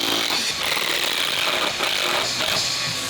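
Power drill boring through a block of old WWII German wood in a workshop, a steady loud whirring grind that holds constant for the whole stretch with no voices.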